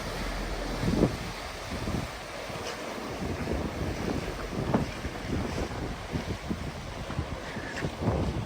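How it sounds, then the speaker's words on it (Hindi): A boat heads out to sea from Dunbar harbour in Scotland, heard from the shore as a low engine rumble under steady gusting wind buffeting the microphone, with waves washing in and occasional soft knocks. "ये बोट ये समुद्र में जा रही है।"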